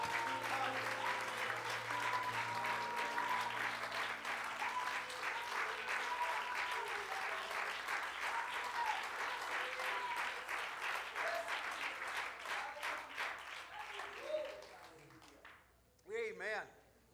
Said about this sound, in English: Why don't you clap your hands to the Lord and thank God for a minute for his mercy and grace.